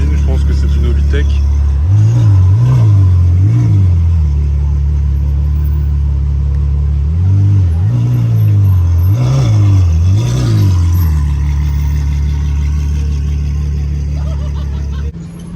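Supercar fitted with an aftermarket Hobbytech exhaust revs on a street in Cannes, loud low rumbling blips rising and falling in two bursts over a steady engine drone, with people talking throughout.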